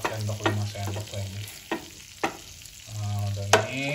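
Butter sautéing in a pan for udang mentega (butter shrimp) comes through as steady frying sizzle, broken by repeated scraping stirs and clanks of a utensil against the pan, all close and fairly loud with no talking.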